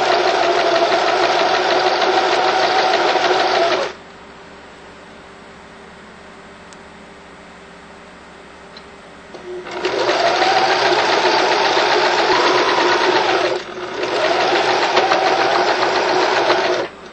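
A sewing machine stitches bias tape binding onto the edge of a fabric tarp, whirring loudly and steadily in close bursts: one long run, a pause of several seconds, then two more runs with a brief stop between.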